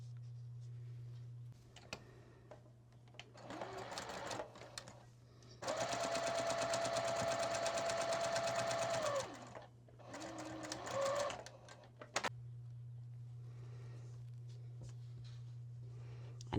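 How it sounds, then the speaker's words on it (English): A sewing machine runs across a quilt fabric strip, first in short bursts, then in a long steady whirring run of several seconds, then in more short stitching spurts, all close and clear with no talking over it. "I'm just going to put that there and sew it on"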